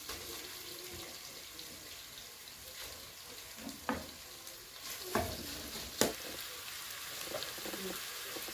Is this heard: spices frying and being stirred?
yes